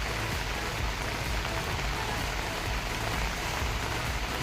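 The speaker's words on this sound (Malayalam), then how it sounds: "കാരണം നല്ല മഴയുണ്ട്" Heavy rain pours down steadily and densely, a loud, even wash of drops hitting surfaces nearby, with no pauses and no voices.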